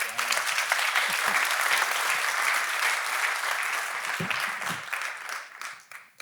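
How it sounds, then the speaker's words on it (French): Audience applause in a theatre in Gland at a welcome address for a town economic forum, a dense steady clapping that lasts several seconds and tapers off near the end. "Je vous propose de l'applaudir."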